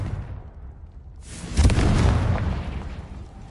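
Confringo blast spell cast in Hogwarts Legacy, a loud explosive boom that bursts in after a quiet moment and rolls on with a rumbling, crackling tail.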